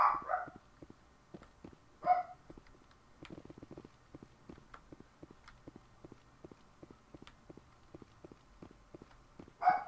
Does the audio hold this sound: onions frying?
no